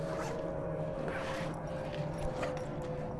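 Zipper being drawn closed on the fabric accessory bag of a Milwaukee M18 FUEL 12-gallon dual-battery wet/dry vacuum, a steady close rasp running for a few seconds over a low background hum.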